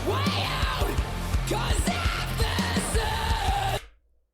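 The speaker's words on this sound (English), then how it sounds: "She has no business having that type of control with a distorted or a true pitch scream." A female metal vocalist screams with distorted, true-pitch control over heavy band backing, loud and continuous before cutting off abruptly near the end.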